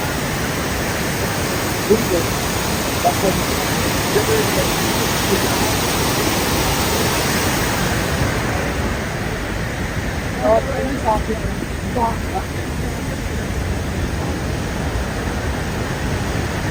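The Rhine Falls in Switzerland pour in a constant, loud, broadband rush of water heard close by, with faint voices in the background.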